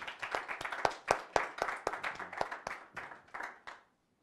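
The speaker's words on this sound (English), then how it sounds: "Please give David a round of applause" Applause for a presenter at a talk on Israeli politics comes from a small audience, a handful of distinct, rhythmic claps close by that thin out and stop after about four seconds.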